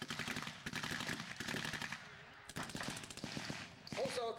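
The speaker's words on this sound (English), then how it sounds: "infantry moving forward under supporting fire from the BAR, the Browning automatic rifle, and the Browning 30 caliber machine gun" Browning automatic rifle and Browning .30 caliber machine gun fire at a WW2 battle reenactment, rapid bursts of sharp shots in rattling runs with brief pauses, fairly loud, with distant blank fire behind.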